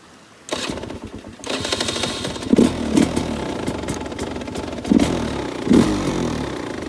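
A Sherco 250 SE dirt bike with a trials-like engine character fires up after a short cranking, then settles into a close, steady idle with a few brief throttle blips and no talk.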